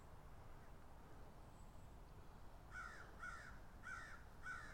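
Quiet sunrise ambience in Lutz, Florida, then a crow starts cawing in a steady series of four harsh calls, moderately distant, with no speech over them.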